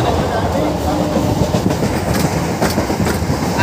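Bangaon–Ranaghat local train running, a steady loud rumble with repeated clickety-clack of wheels over rail joints, heard from on board throughout.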